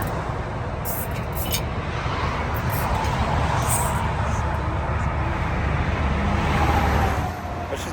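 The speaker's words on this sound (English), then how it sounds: "Traffic is really bad" Heavy road traffic rushes past a roadside stop on a highway during a full-time RV trip, a steady, loud, continuous roar of cars and trucks close by that swells slightly as vehicles pass.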